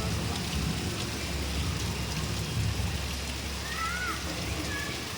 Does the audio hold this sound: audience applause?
no